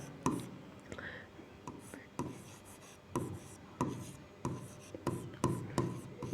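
In a class 10 maths lesson, chalk or a marker writes on a board, a series of short, regular scratchy strokes and taps close by with soft rubbing between them.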